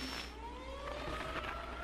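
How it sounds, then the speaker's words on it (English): A tornado siren alarm in the survival game 7 Days To Die holds a long, rising, steady wail over a constant low rumble, faint and continuous throughout without pauses. "an alarm, tornado siren alarm went off, and it says, storm warning, seek shelter"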